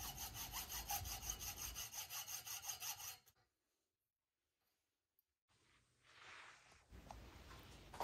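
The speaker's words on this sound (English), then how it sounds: "I grip the larger diameter pipe in the vise and saw off four pieces," Hacksaw cutting a larger-diameter metal exhaust pipe clamped in a vise, heard as steady rhythmic rasping strokes for about three seconds, then silence, then further scraping and handling noise close by.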